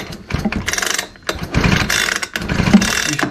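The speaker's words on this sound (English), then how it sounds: "when you pull the starter, you should see a light in there." Recoil starter of a Husqvarna 125b handheld leaf blower pulled several times outdoors, each pull a rough ratcheting whir with clattering mechanism, close and fairly loud, no talking.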